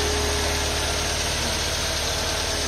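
A 1997 Honda Civic engine idles in a garage after a full preventive maintenance service, producing a steady, continuous mid-pitched hum with light vibration that stays even and close throughout, with no voices.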